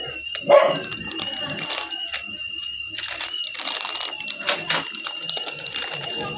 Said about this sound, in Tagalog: Kung naririnig nyo guys, pati mga aso ko tumutunog.